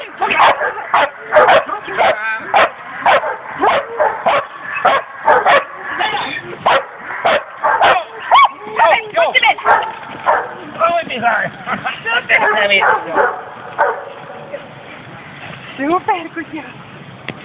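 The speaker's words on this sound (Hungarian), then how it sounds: "Szuper kutya." A dog barks and yips in a fast, repeated string of sharp calls during an evening guard and protection training session, close to the microphone, while a handler keeps talking and praising over it.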